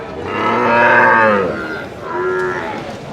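A cow at a cattle market in Hyderabad moos twice, a long, loud, drawn-out low call followed by a shorter second moo, close by with no talking.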